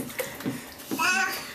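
Bath water splashing softly around a nearly ten-month-old baby in a bathtub, mixed with a child's babbling and an adult voice singing over it, close and intimate.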